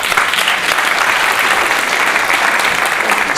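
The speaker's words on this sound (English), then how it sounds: "I think somebody should clap for that." Loud, dense applause fills a NYCHA town hall on the cost of living, a crowd clapping continuously and evenly from start to finish, close and with no talk over it.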